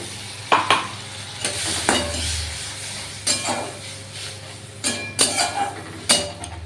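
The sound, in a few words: spice paste being stirred and sautéed in a pan for ghugni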